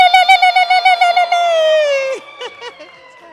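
A lecture audience ululates in welcome, with a high warbling trill that pulses rapidly, then holds and slides downward before breaking into a few shorter calls, loud and close.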